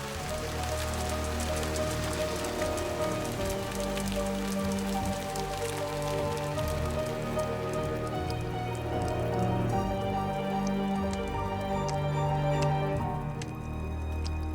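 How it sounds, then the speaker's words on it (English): Steady heavy acid rain pours and patters on surfaces, with scattered drips and splashes throughout, dense and continuous without any voices. "Acid rain poured from the sky, burning those that had managed to survive till then."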